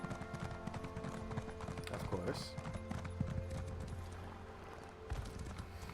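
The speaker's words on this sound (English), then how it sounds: "I've got the horse now." Horse hooves clip-clop in rapid rhythm in The Elder Scrolls Online, a steady galloping patter under game sounds while someone speaks briefly.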